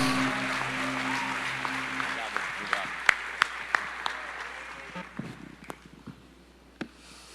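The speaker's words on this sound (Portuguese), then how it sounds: "Vamos receber o bispo com a salva de palmas." A church congregation claps to welcome the bishop, a fading wash of applause joined by a sustained tone early on, then scattered individual claps and knocks as it dies away.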